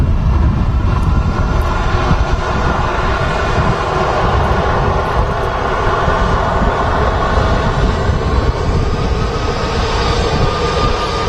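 An airplane's engines spooling up to takeoff thrust at Manchester Airport, a loud, steady, broad roar that holds for the whole stretch with no voices.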